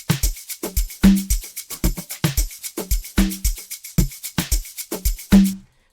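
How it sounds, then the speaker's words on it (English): Stacked Amapiano drum loop with shakers, tambourine and snare, playing a steady, punchy rhythmic pattern of sharp hits with bright rattling layers, loud and clear with no voices. "And everything together with regards to the drums sounds like this."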